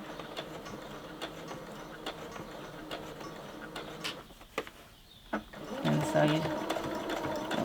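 A sewing machine stitches a lined zipper pouch close to the fabric edge, running in a steady mechanical whir with short pauses and restarts, while someone talks over it.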